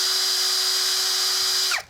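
A PROCRAFT PA 21 Li cordless drill runs at steady speed with a loud, even high whine, then winds down sharply as the trigger is released.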